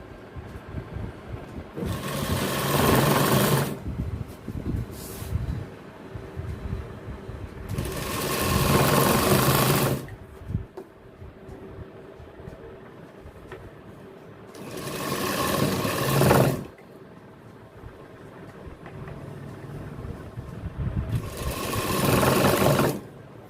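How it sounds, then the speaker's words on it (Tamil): Sewing machine stitching gents pants: four bursts of fast, steady mechanical whirring and needle chatter, each lasting a few seconds, separated by quieter pauses, close and without talk. "கரெக்டாக பார்த்தீங்கன்னா அந்த இடத்துல தையல் போடுறாங்க."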